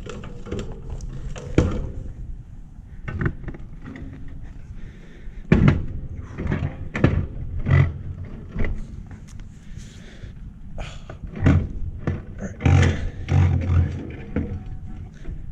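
A heavy, hard-to-close door at a Nike missile site, heard up close as a string of scattered thuds, knocks and scrapes at irregular intervals.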